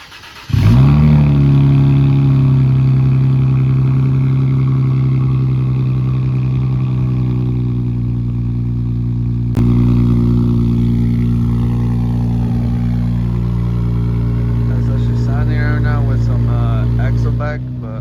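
Infiniti Q60 Red Sport fitted with Stillen intakes fires up from a cold start, a loud burst settling into a steady high idle that holds close and strong with a brief blip midway, alone without talk.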